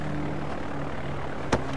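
A plane takes off in Far Cry 4, its engine drone steady and moderately loud throughout, with one brief sharp thump near the end and no talking.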